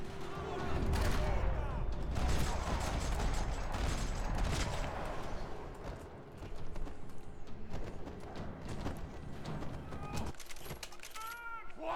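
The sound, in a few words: gunfire in the video game Max Payne 3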